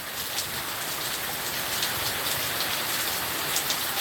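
Heavy rain pours down during a Virginia pop-up storm with strong wind, a dense continuous hiss of drops pattering on a truck roof and surfaces nearby, steady throughout with no speech.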